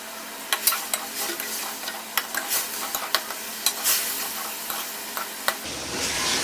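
Ginger fries in about a spoonful of oil in a karahi, a steady close sizzle broken by sharp clinks of a spoon stirring at irregular intervals, with no talking.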